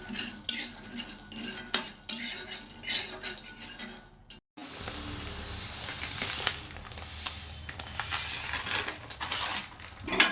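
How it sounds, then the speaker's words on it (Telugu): Peanuts roasting in a pan for sesame laddu, stirred with a metal utensil: steady scraping, rattling and sizzling hiss that runs continuously, with a brief break partway through, close and fairly loud, no talk. "అందులో కొంచెం వేరుశనగలు వేస్తున్నాను."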